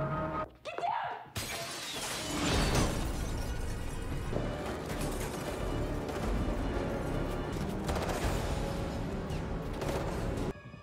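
Gunfire and a window shattering in a TV show scene: a sudden loud crash of breaking glass followed by sustained dense crackling and debris noise, with someone speaking briefly beforehand.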